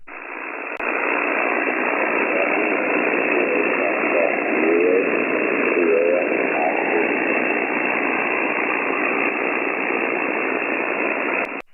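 Loud, steady static hiss fills a 40 meter HF ham radio band on an Icom receiver, a dense wash of noise lasting throughout with faint warbling traces buried inside.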